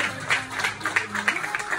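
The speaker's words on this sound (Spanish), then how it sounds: "para la que pido un aplauso" A crowd at a political gathering claps steadily for a short stretch, the sound dense and fairly close throughout.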